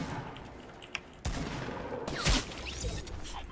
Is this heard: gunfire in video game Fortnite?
yes